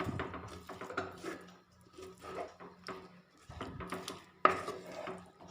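A spoon stirs a filling of banana, jaggery and grated coconut in a pan, giving soft scraping and intermittent clinks against the metal, close and fairly quiet, with no voices.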